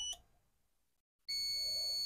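An Allan timer board's buzzer sounds a steady, loud electronic beep that starts abruptly after a short click and near-silence, then holds without a break to the end.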